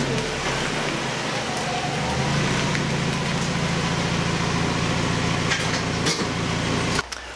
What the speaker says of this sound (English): I'm going to pull the car in